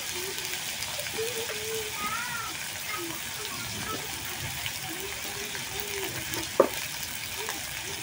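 Food seasoned with salt, turmeric and chili sizzles and crackles in a pan while being stirred, a continuous frying hiss with scraping stir sounds and a sharp clink near the end, voices faintly underneath.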